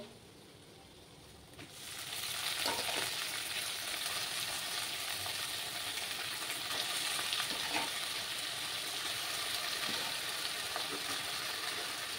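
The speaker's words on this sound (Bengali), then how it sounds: "এবার আমি কচুর শাকগুলো দিয়ে দেবো।" A near-silent pan erupts into a loud, sustained sizzle as taro greens hit hot oil, hissing on steadily with occasional soft stirring scrapes.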